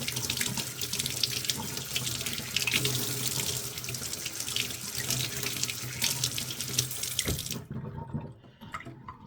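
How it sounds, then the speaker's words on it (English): Steady stream of tap water running into a sink while cucumbers are rinsed by hand, a close, full hiss with small splashes that cuts off abruptly near the end. "I'll wash under a stream of water, removing the little thorns off them"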